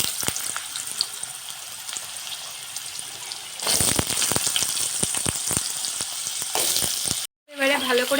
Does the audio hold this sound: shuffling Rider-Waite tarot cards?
no